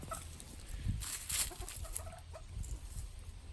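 Chickens cluck softly nearby in short, scattered calls over a steady outdoor background.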